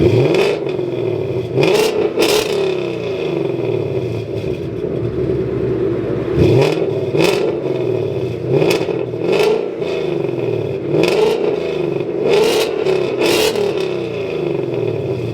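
A 2019 Mustang GT V8 with an X pipe and stock mufflers revs repeatedly up close, sharp throttle blips rising and falling over a steady rumbling idle.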